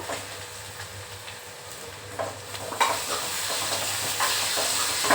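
Onion and tomato sautéing in a pan for a prawn curry: a steady broadband sizzle with stirring scrapes, growing louder as the tomato goes in, with no talking.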